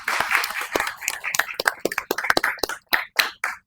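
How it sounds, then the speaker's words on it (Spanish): Audience applause at a fintech product talk, fairly sparse and uneven, with individual sharp claps standing out and thinning into separate slaps toward the end, close and distinct. "Entonces un aplauso para Plural"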